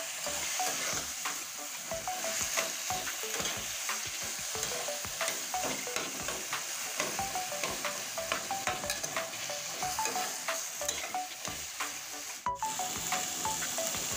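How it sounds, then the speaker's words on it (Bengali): Taro leaves being stirred and fried in a pan, with a steady sizzle under repeated scraping and stirring strokes, close and fairly quiet, with no talking. "এবার কচু শাক দেওয়ার পর সুন্দর করে নেড়ে নেব।"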